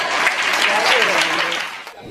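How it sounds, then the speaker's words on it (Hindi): Audience applause at a Hindi stage comedy show, a dense steady wash of many hands clapping throughout, tapering off near the end. "जोरदार तालियां।"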